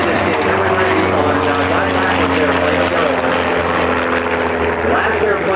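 A propeller airplane racing past at the Reno air show, a loud steady engine drone with a broad roar that fills the whole stretch.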